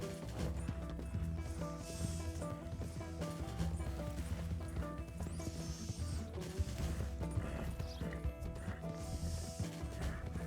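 Hooves of a horse gallop in a steady rhythm in Red Dead Redemption II, dense and continuous under game music and mechanical clatter.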